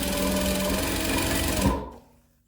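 Sewing machine top stitching a folded fabric strip on a center-seam face mask, running in a steady close mechanical whir for about two seconds before stopping abruptly, with no voices.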